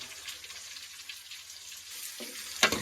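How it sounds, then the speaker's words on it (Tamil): Onions and curry leaves sauté in oil with mustard seeds for a village-style crab soup, giving a soft, steady sizzle and crackle, ending in a brief louder scrape or clatter, with no talking. "வெங்காயம் நல்லா வதக்கின்னு இருக்கிறோம்."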